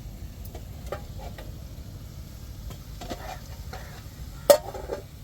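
Chicken is stirred and fried in masala in a pan, giving a soft steady sizzle with light scraping stir strokes and one sharp clink of utensil on pot near the end.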